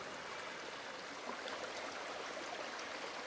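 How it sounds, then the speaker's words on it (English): Running water of a stream flows faintly and steadily, a soft continuous rushing hiss with no voices. "We got the sound of running water."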